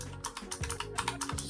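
Quick typing on a Razer Huntsman Mini keyboard, with a rapid run of crisp, close keystroke clicks in an uneven rhythm and no talking.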